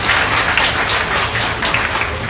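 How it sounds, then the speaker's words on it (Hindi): Steady applause from the audience at a Bihar education minister's live public event, dense continuous clapping from a large crowd with no talk over it. "उनके लिए भी जोरदार ताली बजनी चाहिए।"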